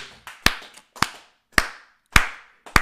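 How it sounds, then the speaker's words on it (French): A few hands clapping sparsely in a church congregation acclaiming God, four or five sharp distinct claps at a slow irregular beat with softer taps between, fairly close and without talk. "Quand est-ce qu'on peut acclamer pour la gloire de Dieu?"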